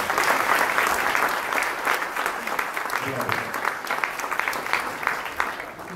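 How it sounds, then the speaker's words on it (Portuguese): Steady, fairly loud applause from an audience at an inauguration event for a science park, honoring the entrepreneurs, dense continuous clapping that tapers slightly toward the end. "uma salva de palmas também para os empreendedores."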